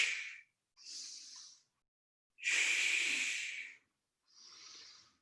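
Four separate breaths during a Pilates workout come through close and airy, alternating inhales and exhales with gaps of silence between them, the third one longest and strongest.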